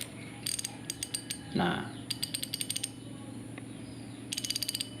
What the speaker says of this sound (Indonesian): Oh ya, sebentar kita cek dulu klikernya seperti apa suaranya